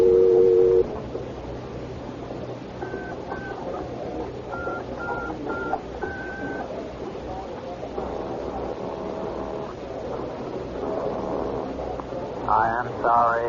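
A telephone in a radio drama gives a short steady tone, then a run of touch-tone dialing beeps. A voice follows, with a few more tones near the end.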